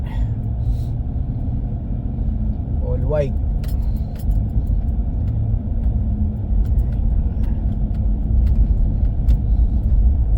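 A car rolls along a road with a steady low rumble of engine and tires, light rattles and clicks inside the cabin, while people talk over it.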